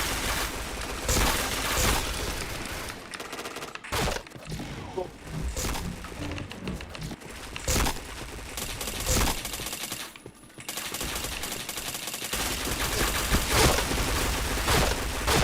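Rapid bursts of gunfire from the shooter game RR crackle repeatedly in dense volleys with brief gaps, loud and close, while players chatter over the action.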